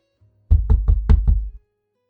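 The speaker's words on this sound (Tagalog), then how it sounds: "Kumatok muna ako." Knocking on a partly open office door, five firm, evenly spaced raps close to the listener in quick succession, alone with no talk.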